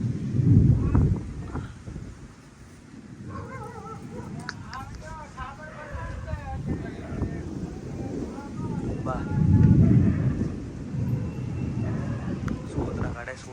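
A severe windstorm sweeps through Patan in Gujarat, with heavy gusts buffeting the microphone in loud surges while excited people shout and talk throughout.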